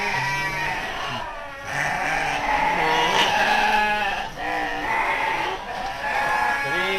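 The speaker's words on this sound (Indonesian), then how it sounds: "Ada Domba jenis Garut sama domba lokal." Garut and local sheep bleating repeatedly on a farm in Cipanas, several animals calling in overlapping, wavering cries close by over steady background noise.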